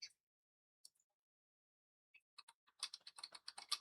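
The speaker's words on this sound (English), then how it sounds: "You can even hear me typing." Sparse, faint clicks of typing on a computer keyboard, a few isolated taps followed by a quicker burst of keystrokes near the end, otherwise quiet.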